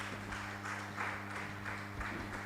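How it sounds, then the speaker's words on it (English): A conference audience applauds its panelists in a faint, steady ripple of clapping that comes in regular bursts over a low electrical hum. "Please, a round of applause for them."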